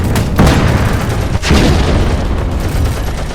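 A tank cannon fires in a war video game. One heavy, booming blast fills the whole clip, with a second loud surge about a second later as it rumbles and decays.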